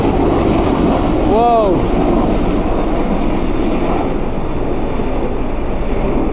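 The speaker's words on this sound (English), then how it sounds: "That helicopter was flying super low." A helicopter flying low overhead outdoors produces a steady loud roar lasting the whole stretch, with a person's brief exclamation near the start.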